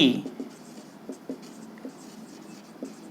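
Chalk or marker tapping and scratching on a board while a physics formula for electric potential is written, short faint strokes repeating at an irregular pace.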